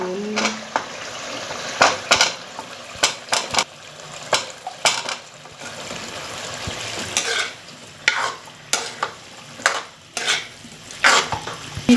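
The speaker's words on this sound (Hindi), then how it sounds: "इसमें मैं अभी आलू ऐड करके भूनूंगी" Potatoes and minced meat keema frying in a pan, with repeated scraping stirs of a utensil against the metal in an uneven rhythm over a soft, steady sizzle.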